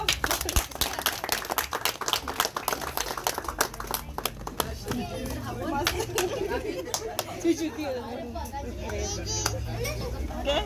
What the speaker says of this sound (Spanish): Un aplauso a Santiago.